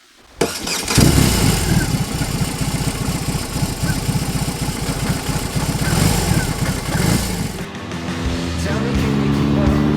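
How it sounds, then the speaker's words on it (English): A BMW R 18 Roctane cruiser motorcycle engine cranks and fires up, then settles into a loud, steady idle with a rumbling, throbbing rhythm close by. "to start it, you have to, let's say, pull in the clutch."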